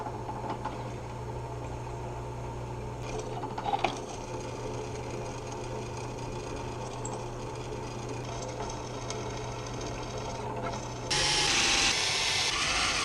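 A drill press runs steadily in a garage workshop while drilling a plate for a 3-speed shifter swap on a C4 Corvette, with a continuous mechanical hum. A brief clatter comes early, and the sound turns harsher and louder near the end.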